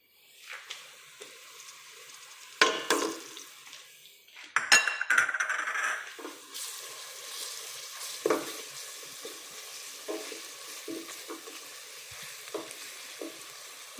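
Onions and garlic frying in a pan while being stirred, a steady close sizzle broken by several sharp scrapes and clinks of a utensil against the pan, no talking.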